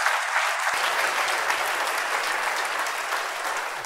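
A church congregation clapping together in praise, producing a dense, continuous wash of applause at moderate loudness that holds steady across the moment.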